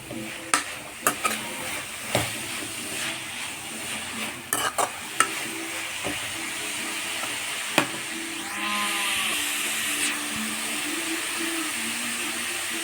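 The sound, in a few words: stirring beetroot stir-fry in a pan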